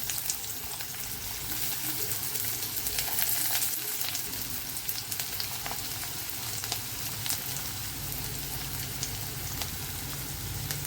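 Onion frying in oil for a curry, a continuous dense sizzle close by with occasional stirring and crackle, steady throughout with no talk.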